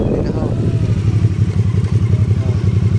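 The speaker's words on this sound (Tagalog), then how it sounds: "Ganda ng mga motor." Motorcycle engines rumble steadily and pass on a road near a river viewing bridge, a low throbbing engine note fairly close, while people chat over it.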